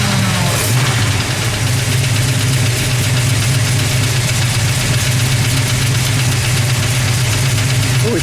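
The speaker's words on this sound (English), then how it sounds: "All right, let's fire it, shall we? We'll let it idle." A 1970 Plymouth Cuda's 440 V8 engine idling close by, a deep, steady, lumpy rumble that holds constant throughout.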